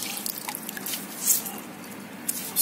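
Bread bait being soaked in water for carp fishing outdoors by a wild lake, with faint wet drips and soft squishing sounds close by, broken by a few brief louder splashes.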